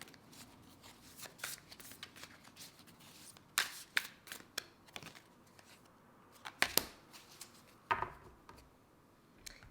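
Oracle cards shuffled by hand for a Scorpio reading, a run of soft papery riffles and sharper snaps that come in irregular bursts, close and fairly quiet, with no talking.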